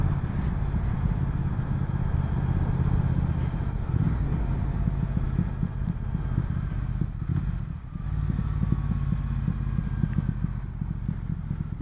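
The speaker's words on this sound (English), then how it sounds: "that exhaust sounds really nice. It's just throbbing away. It's popping when you're downshifting." A 2019 Triumph Speed Twin's exhaust gives a steady, low, throbbing drone while riding, continuous and moderately loud with slight dips in intensity.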